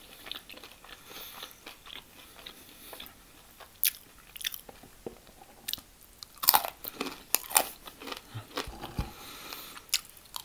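Crunchy cheesy fries are bitten and chewed close to the mic, giving irregular soft crunches and mouth sounds with no talking.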